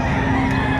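Chickens at the Padre Garcia, Batangas livestock auction market give a brief, close clucking or crowing call lasting under a second, set against busy background noise.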